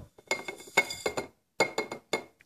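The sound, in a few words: sugar being poured into a glass jar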